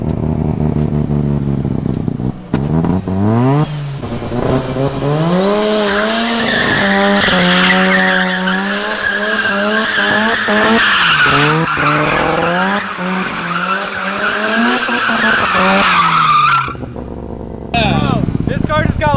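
A rotary-engined Datsun skids around a skid pad, with loud sustained tire squeal and a high-revving engine whose pitch rises and falls as it slides. It cuts off abruptly near the end.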